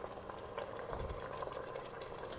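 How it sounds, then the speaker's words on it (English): Lentils being stirred in a cooking pot, a soft continuous bubbling and scraping with a brief louder swish near the middle, close and steady with no talking. "And stir them so it doesn't stick"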